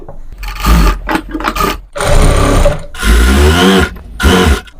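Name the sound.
sewing machine stitching the edges of a frock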